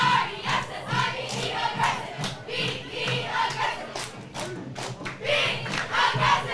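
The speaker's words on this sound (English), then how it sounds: "That's our Olympian cheer squad below us that you can hear" At a nighttime high school football game, a cheer squad below the stands shouts rhythmic chants and cheers, crowd voices rising and falling in bursts with occasional claps and thumps, heard from a short distance.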